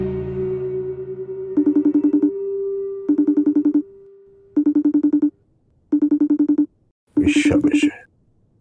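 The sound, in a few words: phone ringing with incoming video call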